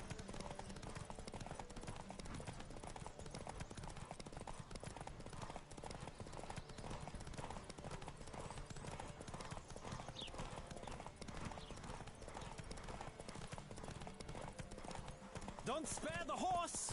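A horse gallops in The Witcher 3 video game, rapid continuous hoofbeats drumming loud and close for the whole stretch, with game voices and sounds mixed underneath.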